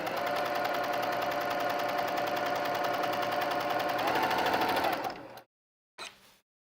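A sewing machine threaded with neutral 100% cotton thread runs in a steady, fast, even whir for about five seconds, then stops abruptly, followed by a brief faint mechanical rustle.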